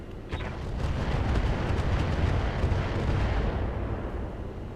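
Mech weapons fire in Battletech with the Roguetech mod, a sustained, loud barrage of booming artillery-like blasts rolling into one continuous rumble, with a sharp crack near the start, heard alone.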